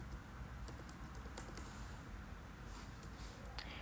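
Continuous typing on a computer keyboard while entering a database command, steady clusters of small key clicks at close range with a faint background hum, no voices.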